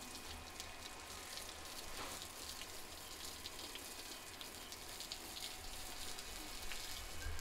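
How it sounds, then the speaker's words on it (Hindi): Water is sprinkled over soil in an outdoor village setting, making a steady, soft rain-like hiss with fine patter that runs unbroken throughout. "पानी के छिड़काव से ना मिट्टी बैठ जाएगी, अच्छे तरीके से बैठ जाएगी मिट्टी"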